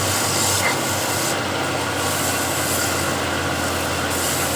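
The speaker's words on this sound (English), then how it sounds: "I'll just buff it with a Scotch-Brite pad a little bit, so just a shade shinier." A wooden bowl buffed with a Scotch-Brite pad, probably spinning on a lathe, a continuous close rubbing hiss over a steady low motor hum, with no talking.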